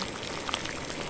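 A pot of moringa (malunggay) rice bubbles on the stove, a dense, close simmering crackle with a few louder pops across the short stretch, and no talk.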